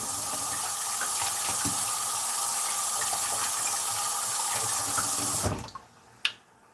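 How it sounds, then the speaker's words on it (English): Water from a kitchen tap gushes into a sink as hands are washed clean of shrimp slime, a steady close rush that cuts off abruptly near the end, followed by a few small drips and clicks. "I'm gonna wash my hands again"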